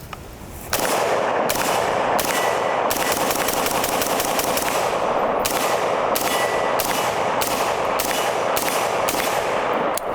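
An HK MR556A1 rifle, set up as a USMC M27, fires outdoors in long sustained rapid strings of loud sharp reports with brief pauses between bursts, filling the whole stretch without any voices.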